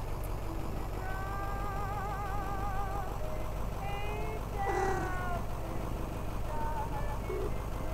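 A cat meows repeatedly in the Night Bus horror game, several wavering, moderately loud cries over a constant low engine idle drone, with no talking.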